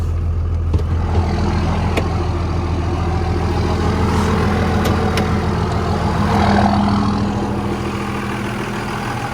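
A 2001 Cummins diesel truck with stacks idles cold while warming up, giving a steady, low, rumbling drone that holds evenly throughout with no talking.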